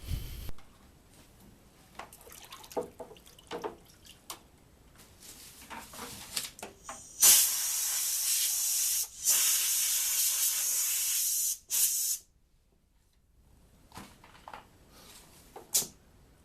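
Plastic racquetball glasses coated in dry chemical from a fire extinguisher, rinsed and then blow-dried, with scattered clinks and handling noises followed by a loud hissing blast of air that runs for several seconds, stops, and briefly starts again.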